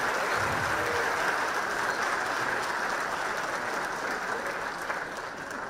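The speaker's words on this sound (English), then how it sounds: "another round of applause for Alejandra Guajardo, ladies and gentlemen" A conference audience at a Bitcoin event applauds a speaker, a dense, steady roar of clapping that fills the whole stretch at fairly close range and tapers only slightly at the end.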